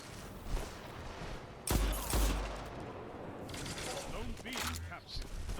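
Hand cannon gunfire from a shooting video game, with a couple of sharp, loud shots close together near the middle followed by more scattered firing amid game noise.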